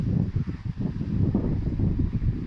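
Wind blowing outdoors during a quad winching job, a low rumbling buffet against the microphone that stays steady and fairly loud throughout.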